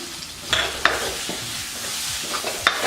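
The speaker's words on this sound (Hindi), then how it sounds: "इसी तरह एक अंडे को हम हिला देंगे" An egg is stirred in a hot pan for egg bhurji, a continuous sizzle broken by a few sharp spatula taps and scrapes against the pan, close and without speech.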